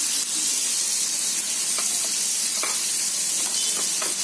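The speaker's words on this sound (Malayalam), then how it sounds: "കൊഴുവ വറുക്കാൻ" Anchovies frying in a pan of oil, a loud continuous sizzle up close with intermittent crackles and light stirring scrapes, no one talking.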